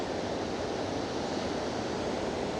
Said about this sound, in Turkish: Deniz hakikaten bugün çok kabarık ve çok hareketli.